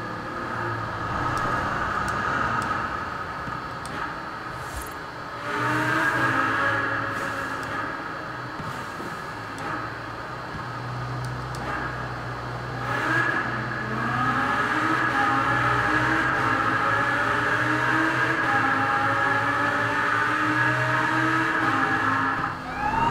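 A Lamborghini Huracan engine in Forza Horizon 4 revs and accelerates through a tunnel, rising and falling engine notes across repeated gear changes, loud and close with no speech.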